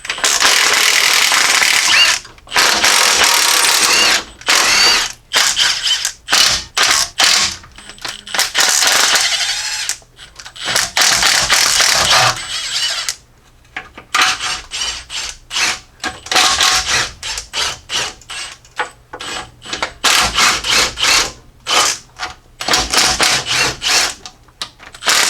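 Impact or power tool zipping out 7/16 and half-inch timing cover bolts on a Jeep Cherokee XJ 4.0L engine, loud bursts of rapid whirring and clattering repeated many times with short gaps, close and without talk.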